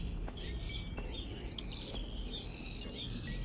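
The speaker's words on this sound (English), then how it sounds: "We've got baby chicks at the minute. It sounds like Dad's picked one of them up and they're objecting to that." Baby chicks chirp in short, high, scattered peeps over a steady background hum, sounding somewhat distant and faint.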